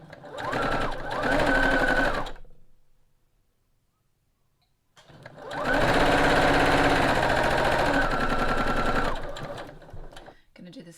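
A sewing machine stitches fabric strips for a string quilt block in two close, fast, buzzing bursts, a short one and then a longer run, separated by a few seconds of near silence.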